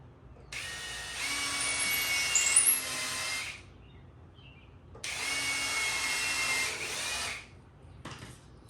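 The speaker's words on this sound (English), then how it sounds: "drill your pilot holes" A power drill bores pilot holes into a wooden workbench in two sustained, whining bursts of about three seconds each, separated by a short pause, close and fairly loud.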